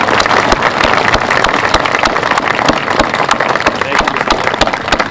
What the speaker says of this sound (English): would just ask you to join me in a round of applause